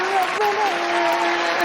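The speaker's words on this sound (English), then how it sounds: "Round of applause." A studio audience applauds a guest arriving on a talk show, steady clapping that holds throughout under a sustained voice or tone.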